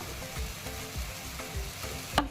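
An eggplant bharit mixture sautés in oil, low bubbling sizzle with soft rhythmic stirring scrapes and one sharper clink near the end, close and moderately quiet with no speech.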